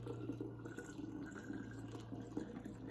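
Passionfruit syrup trickles and drips softly as it is poured into a bottle through a funnel, a faint, steady liquid sound with a low hum behind it.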